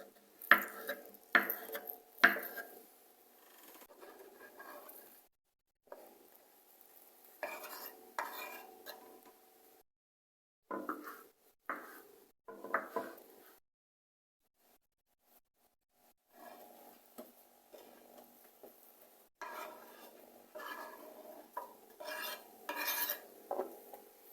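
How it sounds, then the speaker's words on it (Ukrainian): A knife slices crab sticks diagonally on a board in bursts of short cutting taps and scrapes with clinks of utensils, near and moderately loud, separated by brief silent pauses. "Нарізаємо на такі шматочки на наіскось."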